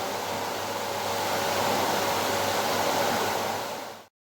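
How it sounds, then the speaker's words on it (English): A pool pump drawing air in through the skimmer, a steady loud hissing rush with a low hum underneath, holding level for about four seconds before cutting off abruptly. "the air is being sucked in through the skimmer"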